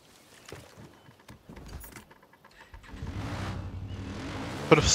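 A car in the video game Far Cry New Dawn drives and revs, the engine rising from a quieter start into a steady, louder roar over the last couple of seconds.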